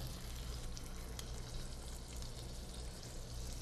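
Meat laid skin side down sizzles and crackles steadily in hot oil in a pan, a dense continuous frying hiss with no voices.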